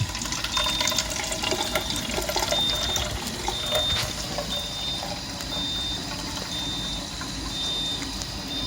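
Tap water runs steadily into a small nasal rinse container, a continuous close splashing and trickling flow with no talk over it.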